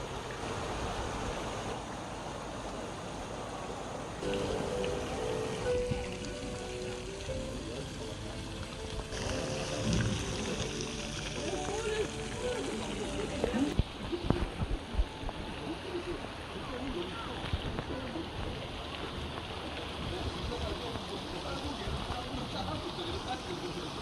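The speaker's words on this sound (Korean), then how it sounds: "그넓은숲 속에 이 개울가의 물소리가 들리는 이곳에서" Water from a forest stream flows steadily as a broadband rush and babble, with a voice speaking over it in places.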